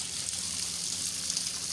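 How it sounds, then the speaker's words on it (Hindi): Water gushes steadily from a freshly drilled 50-foot borewell, a loud, continuous rushing flow with no break, heard up close and alone. "ये माशाल्लाह बोरिंग का पानी है।"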